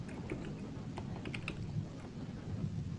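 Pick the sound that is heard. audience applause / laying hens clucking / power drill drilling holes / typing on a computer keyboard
typing on a computer keyboard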